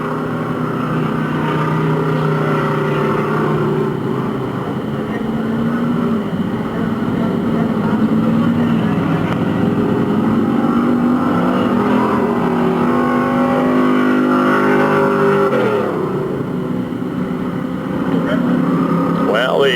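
Dirt track race cars roar around a speedway in a heat race, engines droning and swelling continuously and loudly throughout, with an announcer talking over them.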